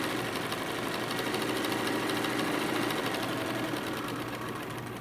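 A sewing machine stitches a tote bag panel in one continuous, even whir at close range, running steadily on its own without talk.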